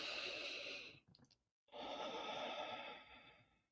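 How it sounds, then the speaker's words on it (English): A long, deep breath drawn in close to the microphone, a broad airy inhale lasting about a second, a brief pause of near silence, then a slow full exhale lasting around two seconds, with no talking. "take a deep breath with me"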